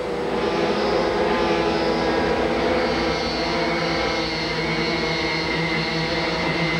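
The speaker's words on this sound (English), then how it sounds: "No suspension on these karts. They are four-wheel projectiles." Vintage 1989 sprint karts with piston-port engines, no suspension, racing in the Piston Port Championship main event at Adams Cart Track; a dense, continuous buzzing drone of several engines held at a steady loud level throughout.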